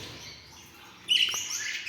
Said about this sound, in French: Alors voilà le couple. Le mâle sur la droite, au fond, et sur le devant, on a la femelle. Voilà, de jolis oiseaux,